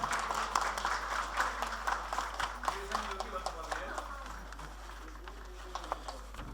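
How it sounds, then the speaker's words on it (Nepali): Audience clapping at a small farmers' agricultural cooperative's 25th anniversary ceremony in Rupandehi, rapid scattered claps fading toward the end, heard under an announcer's voice over a loudspeaker hum. "ल सम्पूर्णलाई ताली बजाइदिनु म हार्दिक अनुरोध गर्दछु।"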